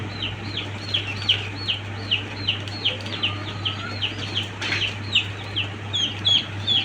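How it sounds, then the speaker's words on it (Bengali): Several chickens cluck in quick repeated bursts while pecking and tearing at a cockroach, nearby and fairly clear over a low steady hum. "একটা তেলাপোকা যেমন এই মুরগিগুলো ছিঁড়ে খাচ্ছে"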